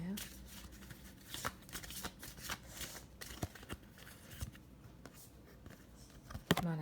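Tarot-style cards are shuffled and drawn near the microphone, with soft sliding and flicking sounds repeating under continuous talking.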